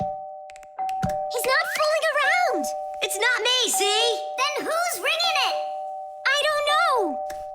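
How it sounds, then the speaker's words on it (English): Doorbell in a children's cartoon ringing nonstop after fire has fused its wires together, a repeated warbling electronic chime under lively cartoon voices, with a steady tone humming throughout. "The doorbell's ringing because fire connected the wires together."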